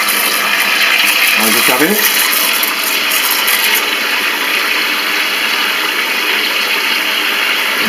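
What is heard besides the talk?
shower head running water into a bucket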